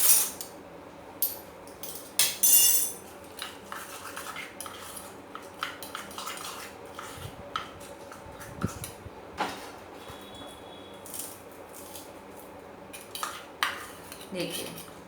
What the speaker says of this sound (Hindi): दोनों को अच्छे से मिक्स करेंगे हम